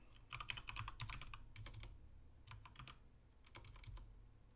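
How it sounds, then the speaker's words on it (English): Rapid bursts of keystrokes on a computer keyboard come in three quick clusters separated by short pauses, close and fairly quiet, with no talking. "what am I typing into?"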